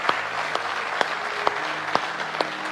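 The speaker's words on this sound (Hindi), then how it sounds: "तालियां बजाएं श्री कल्याण सिंह जी के लिए।" Audience applause at a public address, brisk crowd clapping with a few louder claps standing out at regular intervals, short and moderately loud with no talk.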